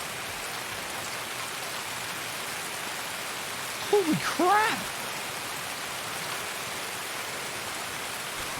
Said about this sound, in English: I told you the rain makes it so you can't even hear people